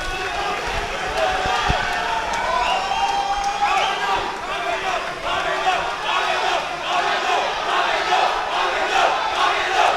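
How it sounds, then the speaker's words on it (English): A kickboxing crowd at a Sri Lanka versus India bout roars steadily behind a local fighter, a dense, continuous mass of voices and shouts filling the arena, with commentary talking over it. "This crowd is getting behind the local hero."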